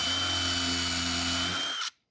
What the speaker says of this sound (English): we marked out and countersunk the holes for the end panels.